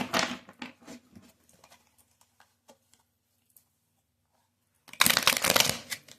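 Tarot cards are shuffled in two bursts: a rapid riffling patter at the start that thins into scattered taps, then a quiet pause, then a second dense, crisp flurry of cards close up.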